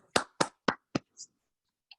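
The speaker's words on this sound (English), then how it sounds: "Everyone, unmute yourself and give David a warm round of applause." Several slow, distinct hand claps come from an online group over a video call, four sharp claps spaced evenly and then a softer one, followed by quiet with a faint click.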